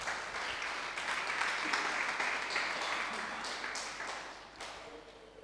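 A church congregation clapping loudly, a steady dense wash of applause that holds for several seconds and then tapers slightly.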